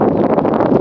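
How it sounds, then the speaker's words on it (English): Strong wind roars continuously under a yellow weather warning, buffeting the microphone with a dense, rumbling rush that never lets up. "It's very, very windy and yellow warning for tonight."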